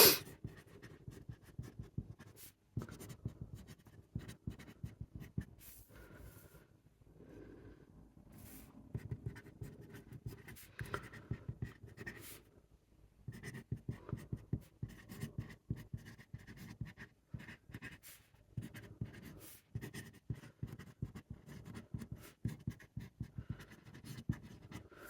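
A broad-nib fountain pen from a Magna Carta Sapphire Grand scratches steadily across paper, with close, continuous strokes and short pauses between words and lines.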